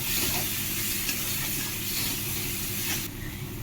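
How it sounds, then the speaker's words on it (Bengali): Loud, continuous sizzle of spices with garlic cloves and green chillies frying in a pan, a steady hiss and brief stirring sounds, close up, with no talking. "মশলাটা একটু ভাজা হয়ে গেছে"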